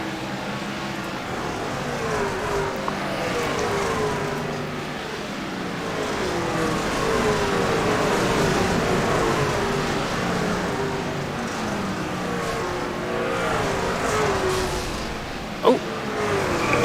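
Racing trucks in a dirt-track racing game roar together as a pack, engines droning and shifting pitch steadily throughout, with a brief sharp knock near the end.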